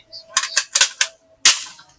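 Sharp gunshots at a shooting range crack in a rapid irregular series of about five close, loud bursts, the last one strongest with a brief decaying tail.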